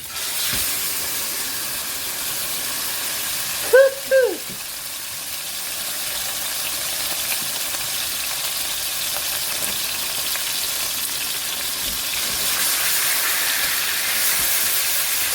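A steady sizzling hiss of meat frying in a hot pan for bulgogi pasta runs throughout, with a brief clatter near the start.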